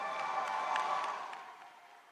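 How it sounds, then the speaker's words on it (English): A crowd at a CrossFit-style fitness competition applauds and cheers a third-place athlete in an intermediate male category at an awards ceremony, a steady distant wash of clapping that fades toward the end. "Applause."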